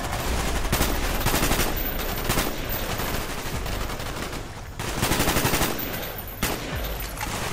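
Automatic and rapid gunfire from the Call of Duty: Black Ops video game rattles in loud dense bursts with brief gaps, steady and close throughout.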